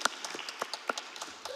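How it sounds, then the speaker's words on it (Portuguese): An audience at a national medical congress closing session gives scattered, moderately quiet applause, with separate claps standing out in an uneven rhythm. "peço uma salva de palmas"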